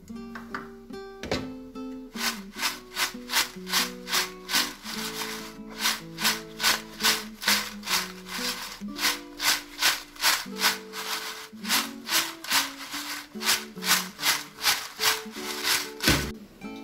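Fried banana chips are tossed with fine salt in a steady rhythmic rustle and scrape, about one stroke every half second, close and continuous, while music plays underneath.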